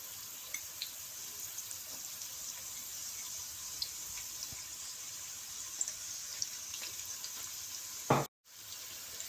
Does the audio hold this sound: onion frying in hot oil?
yes